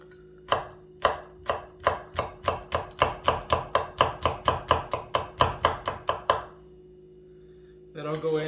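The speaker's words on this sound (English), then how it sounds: "We're gonna slice that at an angle, both for presentation and texture." Knife slicing a Serrano chili at an angle on a cutting board: about twenty crisp, evenly spaced chops in a quick steady rhythm, close and clear, ending in a brief pause and then a soft rustle.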